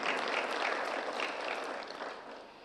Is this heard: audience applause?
yes